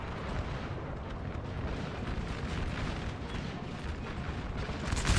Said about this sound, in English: I do see artillery firing at his cavalry as well